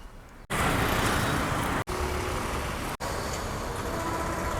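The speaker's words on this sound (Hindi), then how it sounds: "ट्रैफिक बढ़ रही है यार, दिन ब दिन ट्रैफिक बढ़ रही है यहाँ पे" Dense road traffic rumbles steadily nearby, a loud, even wash of passing car and heavy-vehicle engine and tyre noise, broken by a few abrupt cuts.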